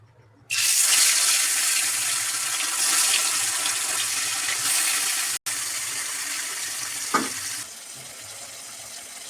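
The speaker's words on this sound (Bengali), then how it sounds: "আমার তেল গরম হয়ে গেছে। আমি এবার মাছটা দিয়ে দেব।" Fish, coated in a mustard-based marinade, sizzles loudly as it drops into hot oil in a pan, a steady broadband frying hiss that starts abruptly and holds, briefly cut off and then continuing.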